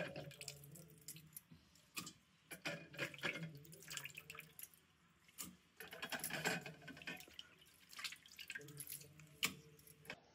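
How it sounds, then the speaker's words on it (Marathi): Raw prawns being rinsed clean under running water in a home kitchen, with irregular splashing and dripping bursts close by, no talking. "तर आता कोळंबी मस्तपैकी धुवून घेते."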